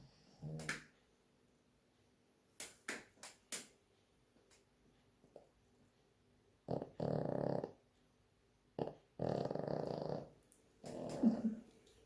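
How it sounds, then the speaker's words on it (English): A dog snores in slow, breathy rumbles, a few long drawn breaths after some soft clicks and snuffles in a quiet room. "One of the perks of working with my babies around me is listening to Lasya's snores"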